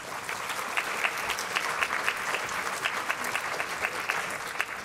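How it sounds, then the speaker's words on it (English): Seminar audience applauding warmly, a thick continuous patter of many hands that stays loud and even from start to finish. "So please give yourselves a round of applause."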